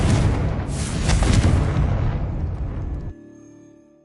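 Confringo spell explosion in Hogwarts Legacy, a loud close fiery blast with a roaring burst that holds for about three seconds, then cuts off to a faint low hum.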